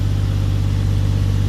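A Toyota 1JZ engine idles steadily right after a coil pack change, giving a smooth, continuous low rumble at close range with no voices.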